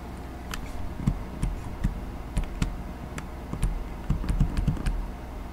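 Irregular bursts of typing on a computer keyboard, close and fairly quiet, with uneven clusters of keystrokes and short pauses between them, no talking.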